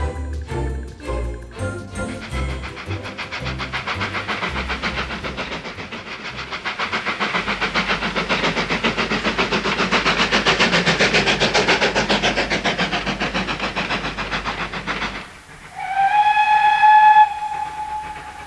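A heritage train approaching Berwyn Tunnel on the Llangollen Railway in the Dee Valley, Wales, with a steady rhythmic chuffing and rolling rumble that builds, then a loud, sustained whistle near the end.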